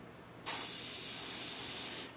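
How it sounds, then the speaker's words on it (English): An airbrush sprays paint onto a scale model vehicle's panel in one steady hiss, close and fairly loud, that lasts about a second and a half and then cuts off. "because I'm spraying almost perpendicular to the piece"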